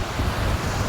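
Water rushes through the open gates of Manjara dam as a loud, continuous roar mixed with wind buffeting the microphone, with no voices.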